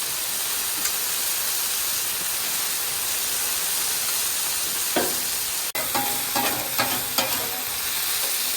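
Honey garlic chicken bites frying on a Blackstone griddle give a steady, loud hiss of sizzling, with a few light clinks and shifts of food toward the end.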